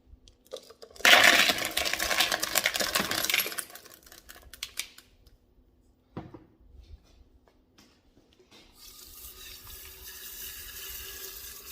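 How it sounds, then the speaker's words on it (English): Tumbled rocks from a mixed batch being rinsed off under running tap water after a wash cycle; a loud burst of splashing water for about three seconds, then a brief knock, then a softer steady flow near the end. "We'll rinse them all off again and take a look at them"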